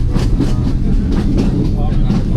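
A moving train in Sri Lanka rumbles loudly from close by, with a rhythmic clatter and a steady low roar. A voice talks faintly under the noise.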